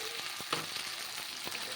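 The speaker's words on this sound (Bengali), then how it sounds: "এবার একটু ভালো করে লাল লাল করে ভেজে নেব।" Ginger, garlic and onion frying in oil for prawn malai curry, a bright continuous sizzle with a few soft stirring scrapes and small pops near the pan.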